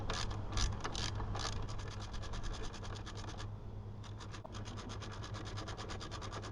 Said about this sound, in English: Next, I'm going to start turning this bolt to get the tension on the belt.